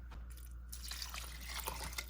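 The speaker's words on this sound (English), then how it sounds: "Add a little bit of water." Water poured from a cup onto quick-cooking rice in a pot, making a soft close splashing trickle that continues faintly for about two seconds.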